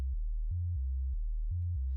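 Low, pure synthesizer pitches from a Reaktor ambient pad patch in progress alternate in a steady repeating pattern of smooth sine-like tones, unfiltered and alone.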